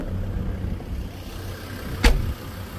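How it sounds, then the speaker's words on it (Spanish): A parked car sits with its engine left running in a low, steady idle close by, with a brief sharp knock partway through and no voices. "Deja prendido el carro"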